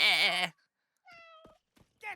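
A cartoon cat in a Smurfs episode lets out a loud drawn-out meow, then after a pause a shorter, quieter mewing cry, with a brief sound starting at the end.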